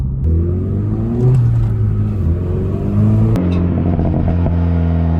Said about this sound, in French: En fait, la voiture, ça pétarade.